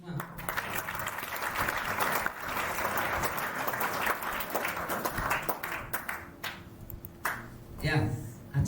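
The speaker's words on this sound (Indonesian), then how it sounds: "Sekali lagi beri tepuk tangan untuk kita semua." An audience at a student dormitory orientation event applauds, with lively clapping that thins into scattered claps toward the end, a voice speaking over it and a faint tone sustained beneath.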